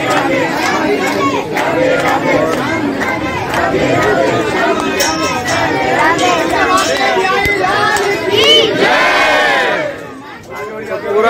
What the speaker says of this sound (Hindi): यहाँ पर राधे राधे के जयकारे लगाते हुए भक्तगण